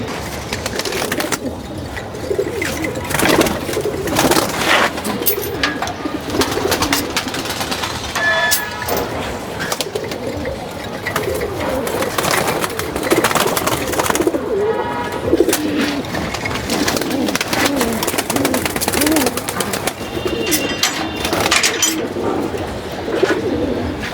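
Pigeons, among them a jira-necked army pigeon cross, coo continuously and close by in overlapping soft calls, with scattered clicks and flutters throughout.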